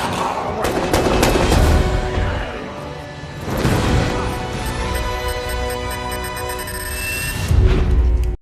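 A powerful explosion in a vampire film erupts as a loud, sustained barrage of blasts and crashing debris, with heavy bursts near the start, middle and end and no talking.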